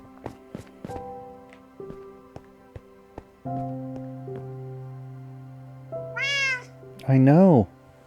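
Cat in Minecraft meowing twice near the end, a wavering high meow followed by a louder one, over soft game music tones and scattered taps.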